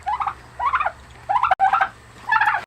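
Small young turkeys gobble close by in four short, bubbly bursts, evenly spaced over a low steady hum.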